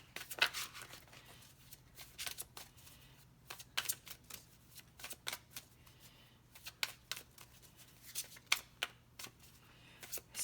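Star Dragons oracle cards shuffled by hand, giving a steady run of quick, crisp riffling flutters that repeat in short bursts, close and fairly quiet, with no voices.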